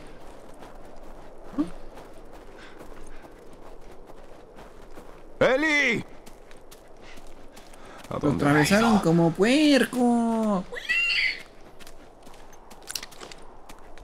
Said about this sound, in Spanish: ¿Escuchó un caballo?